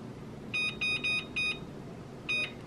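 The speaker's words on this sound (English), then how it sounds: "I better set the timer for the vegetables" Short electronic beeps from a kitchen timer being set for vegetables, five quick tones in an irregular run and then one more after a pause, thin and moderately faint over low room noise.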